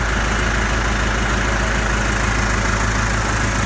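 An engine idles loudly and steadily, a continuous dense rumble with no change in pitch or level from start to finish.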